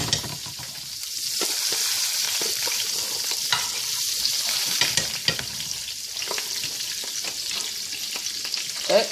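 White butter and yellow Haitian Lily butter sizzling in a frying pan, a continuous close crackle with occasional sharper pops and spoon scrapes, no talking.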